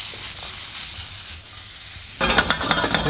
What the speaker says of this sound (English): So, the pan's nice and hot. Just gonna give the pancetta a little stir.